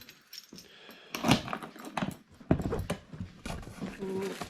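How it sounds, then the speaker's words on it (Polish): Keys for a Yamaha TDM 900 motorcycle jangle and clink in a series of short metallic bursts, fairly faint and close, with brief pauses between shakes. "kluczyki"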